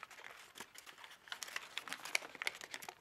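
Close, quiet crinkling of paper being folded into an origami pocket and flap, with rapid irregular rustles and small crackles that fade in and out.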